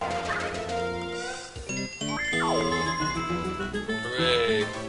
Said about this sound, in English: I love how it plays this disharmonic bell riff.